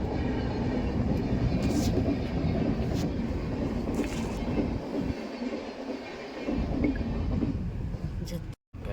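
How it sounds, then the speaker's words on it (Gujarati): A train rumbles steadily past close by at a railway crossing, with rhythmic clatter of wheels on rails and faint squeals, while people talk nearby. "જો ગાઈસ રેલવે જાય છે"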